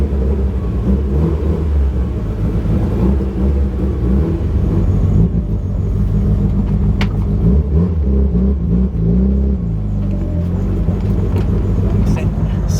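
A Mitsubishi Evo drives and revs, a loud, continuous engine rumble rising and falling with throttle changes, close by, with people talking over it.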